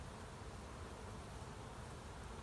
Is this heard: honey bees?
yes